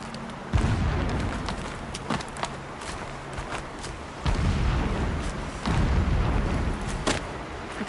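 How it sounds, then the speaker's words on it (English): In the video game Horizon Zero Dawn, distant explosions boom several times, each a deep rumbling burst over a continuous low environmental roar. "Explosions in the distance."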